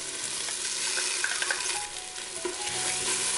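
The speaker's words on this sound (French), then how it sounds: "Je mélange le tout." Dijon mustard is stirred into a reduced sauce inside an Instant Pot, giving a continuous close sizzle with soft repeated scraping from the spoon and no talking.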